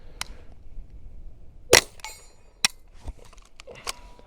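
A handgun fired with an Osight X red dot sight, about five sharp, separate shots at irregular intervals, with quiet gaps between them and no talking.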